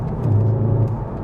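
VW Golf R MK7 with a manual gearbox gives a low, steady engine rumble and whir, heard briefly and fairly loud with no talking.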